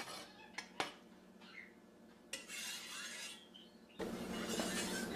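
Julienned vegetables and sliced mushrooms tumble into a frying pan with clattering scrapes and clinks of utensils against metal, followed by a rising steady hiss of cooking toward the end.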